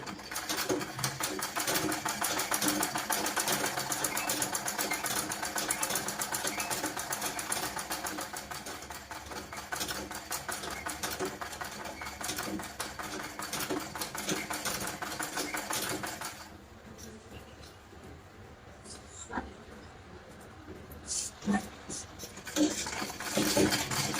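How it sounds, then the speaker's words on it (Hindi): A sewing machine stitches along the buckram of a simple blouse in a fast, even mechanical whir for about sixteen seconds, then stops, leaving quieter handling clicks and rustles. "अब इस बुकरम के पास पास सिलाई लगानी है बिल्कुल"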